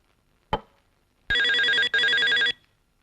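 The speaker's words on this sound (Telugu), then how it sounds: "వేళాపాళా లేకుండా ఫోన్ చేస్తూ ఉంటారు." An old-style telephone bell rings indoors: a sharp click, then two loud, buzzing metallic rings in quick succession, each about half a second long, with no talking.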